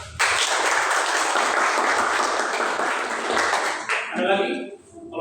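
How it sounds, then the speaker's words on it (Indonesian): Students in a classroom clap together after a group answers during a lesson, dense applause for about four seconds that stops abruptly, followed by a brief voice. "Ya, terima kasih tepuk tangan."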